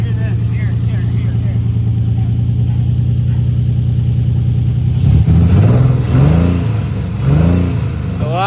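A Nissan 350Z engine, recently repaired after misfiring, idles with a loud, steady rumble, then revs up sharply in a couple of swelling blips near the end, close to the car.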